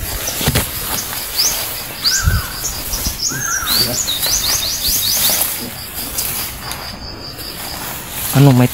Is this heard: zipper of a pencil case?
no